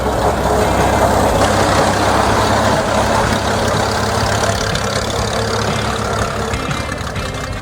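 A Lanz Bulldog HR2 tractor from 1920s Germany idles close by, its engine a steady, loud low-frequency drone with a continuous mechanical rumble. The sound holds unbroken and runs alone, with no talk over it.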